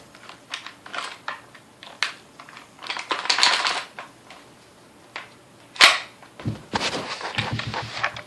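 Mossberg 715T rifle being cleared and handled: a run of sharp metallic clicks, clacks and rattles of magazine and action, close and fairly loud, irregular bursts with brief pauses, no talking.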